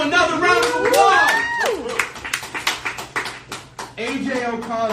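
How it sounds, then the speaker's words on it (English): Audience applause for a comedian at a comedy show: scattered hand claps after a burst of lively voices, with talking continuing over and after it. "Another round of applause."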